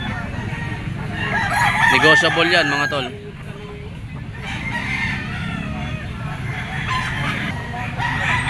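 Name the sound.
Kelso sweater gamefowl rooster crowing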